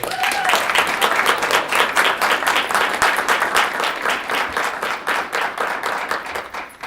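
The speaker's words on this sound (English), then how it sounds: "I'd like to give them a round of applause" Applause for students at a school board meeting, a room of people clapping in a brisk, dense, steady rhythm that continues for about seven seconds.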